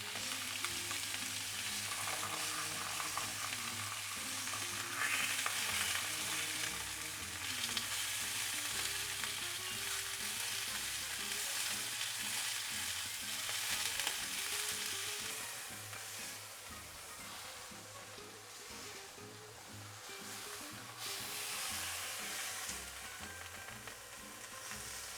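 Steak sizzles and fries steadily in a hot pan after being flipped, a loud continuous crackle with spitting fat, easing slightly in intensity toward the end, no voices present.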